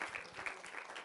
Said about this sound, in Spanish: Denle un aplauso al Señor por sus principios.